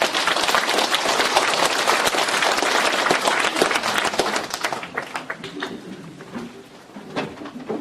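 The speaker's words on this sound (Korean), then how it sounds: "큰 박수 부탁드립니다." A crowd at an evening humanities lecture forum applauds steadily with dense, sustained clapping that thins out and fades toward the end.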